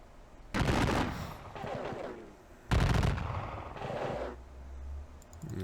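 Musket volleys from the Battle of Cassville in a Civil War strategy game: two loud, broad crackling fusillades, each followed by a rolling, echoing tail, with a low rumble near the end.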